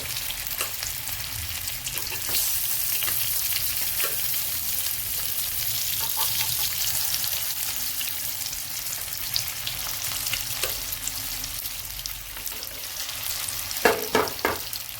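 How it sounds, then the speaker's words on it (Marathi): Bread cutlets frying in hot oil in a pan, a loud, even crackling sizzle lasting throughout, with a few sharper pops and clinks of a utensil toward the end. "आपण आता एक पॅन ठेवला गॅस पेटून, तेल टाकलंय, तेल गरम झालेलं आहे। आता कटलेट एक एक करून आपण सोडू"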